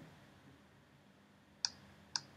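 Two crisp computer mouse clicks, about half a second apart, snap close and clear while selecting students in a NoRedInk assignment, against a quiet room hum.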